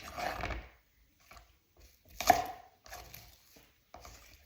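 Knife slicing green onions on a cutting board, several crisp separate chops with short pauses between them, close and fairly quiet, no talking.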